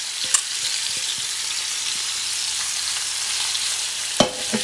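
Liver frying in a pan, sizzling steadily and fairly close, a continuous hiss with a few faint clicks and a short clatter near the end; no one talks.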